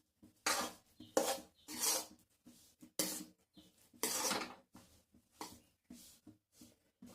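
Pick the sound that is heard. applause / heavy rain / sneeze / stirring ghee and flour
stirring ghee and flour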